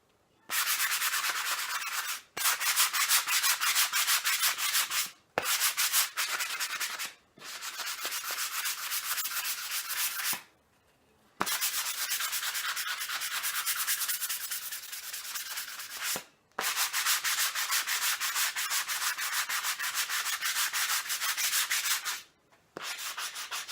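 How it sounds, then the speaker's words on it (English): Sanding block rubbed over a painted surface in long, steady strokes, a dry, broadband scratching that stops briefly between passes, close and alone without talk. "And then I'm going to be sanding it with the sanding block."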